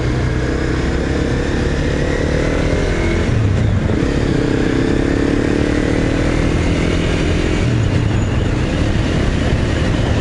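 A motorcycle rides at night near Bangkok, its engine drone steady and loud under a heavy roar of wind, with shifts in pitch as it speeds and slows, and no speech.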